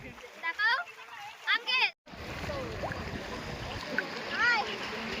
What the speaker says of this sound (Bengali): এখানে চিৎ সাঁতার প্র্যাকটিস চলছে।